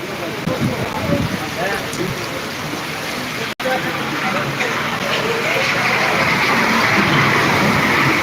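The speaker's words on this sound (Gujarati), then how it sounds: "હવે વાવણી લાયક વરસાદ થઈ ગયા હે ત્યાં પાછો વરસાદ વધ્યો હે" A heavy downpour hisses steadily and densely all around, loud and unbroken, growing slightly stronger toward the end.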